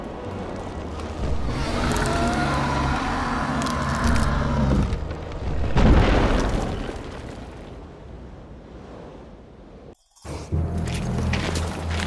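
An explosion in the fantasy role-playing game The Witcher 2: a dense, roaring blast swells near the middle over rumbling game audio, then fades, cuts out briefly and picks back up.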